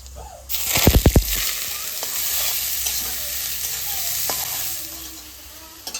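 Nigella seeds and radish greens hitting hot oil in a pan, a loud burst of sizzling with a few quick stirring scrapes, then steady frying hiss continuing alone.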